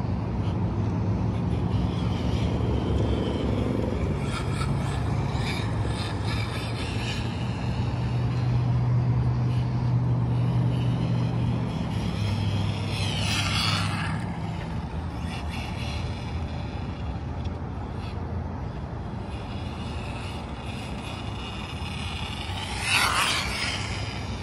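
Losi NASCAR radio-controlled car on a 4S battery running fast on a road, a steady whining electric motor with a gritty rolling hiss that swells and fades as it passes, fairly faint and distant.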